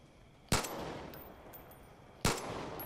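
In Far Cry 5 gameplay, a 1911 pistol fires two sharp shots more than a second apart over a quiet, faint background.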